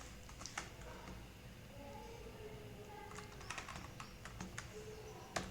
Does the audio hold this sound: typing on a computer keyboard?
yes